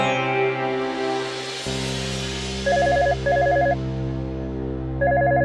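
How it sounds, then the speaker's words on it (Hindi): A phone's ringback tone repeats in short electronic bursts over a steady low hum, three rings in a row with brief gaps between them. "हम अभी फोन लगाते हैं"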